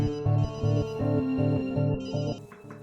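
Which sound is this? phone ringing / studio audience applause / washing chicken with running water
phone ringing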